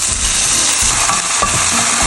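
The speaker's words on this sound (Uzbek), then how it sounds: "Shu yog'ga qovuramiz." Vermicelli and rice frying in oil for Turkish pilaf, a loud dense sizzle with stirring scrapes, continuous and close.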